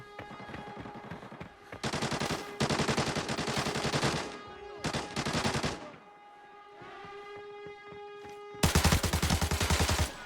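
Bursts of automatic gunfire in the shooter game Arena Breakout, loud, rapid rattling volleys of a few seconds each separated by short pauses, with a final heavy burst at the end.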